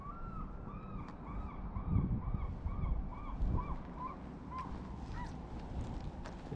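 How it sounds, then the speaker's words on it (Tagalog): A bird near a fish market in Sidney, BC, gives a rapid, regular series of about a dozen goose-like honks, clear and fairly close over a soft outdoor background. "Tinatawanan ba tayo ng ibon ah?"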